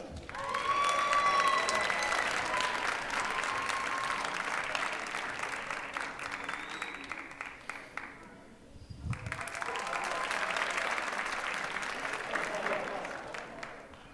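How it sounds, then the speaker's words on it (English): Sustained applause from a crowd at a high school graduation ceremony as graduates' names are read, a long wash of clapping that dips briefly near the end before swelling again. "one more big round of applause for our graduates"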